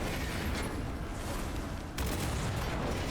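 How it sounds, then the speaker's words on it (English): Cannon fire in the dungeon-management game War for the Overworld, a steady dense rumble of repeated booming blasts with a sharper burst near the two-second mark, mixed into continuous battle noise. "You can hear the cannon behind me firing off every time."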